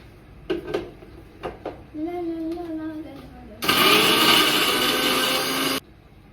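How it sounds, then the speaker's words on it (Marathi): A kitchen mixer grinder blends a spice paste for a potato and pea dish, starting with a loud steady whirr that runs for about two seconds and stops abruptly, after a few light clinks and a brief lower motor hum. "सो हे जे मी वाटण बनवले ते आता मी मिक्सरला लावते"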